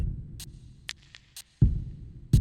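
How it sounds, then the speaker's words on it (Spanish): A sparse drum pattern: low kick hits and sharp hi-hat or snare taps. Each hit trails off in a roomy echo. "En este caso vamos a agregar el efecto de nombre reverb."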